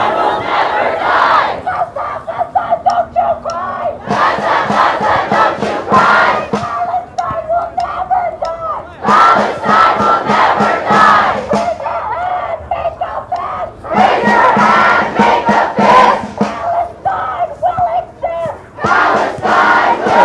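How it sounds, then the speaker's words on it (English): Crowd at a Palestine rally in Albuquerque chanting loudly in unison, rhythmic shouted phrases repeating in bursts with short pauses between, close and energetic throughout. "just take a look at this crowd. I'll let them do the talking for me."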